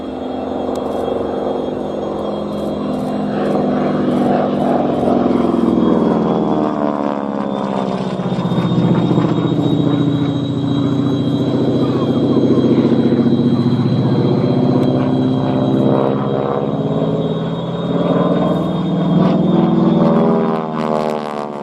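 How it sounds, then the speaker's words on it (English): A North American AT-6C Harvard 2A warbird at an air show, its engine giving a loud, steady droning rumble that holds on without a break. "This is the North American AT-6C Harvard 2A."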